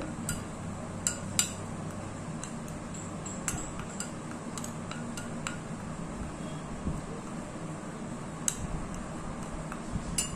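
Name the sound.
mixing red sandalwood powder and turmeric in a bowl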